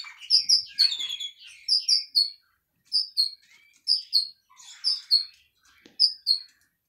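Caged goldfinch, canary and redpoll chirping and calling in short repeated bursts, close and fairly loud, with brief pauses between phrases.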